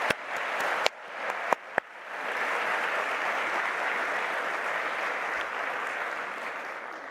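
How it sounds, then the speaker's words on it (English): Steady crowd applause at a master's graduation ceremony, a few sharp loud claps up front, then a dense continuous wash of clapping that holds to the end. "Please let's give them a big round of applause."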